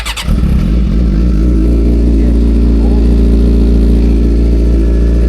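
A beginner motorcycle fires up from cold and settles into a loud, steady, close idle with a deep, even rumble throughout, no voices over it.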